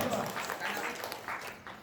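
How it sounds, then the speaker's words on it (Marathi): An audience at a one-day artists' workshop in a village breaks into scattered, fairly faint applause that rolls on unevenly, mixed with a crowd murmur. "जरा टाळ्या वाजवा."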